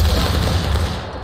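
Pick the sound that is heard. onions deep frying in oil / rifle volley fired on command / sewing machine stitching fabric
rifle volley fired on command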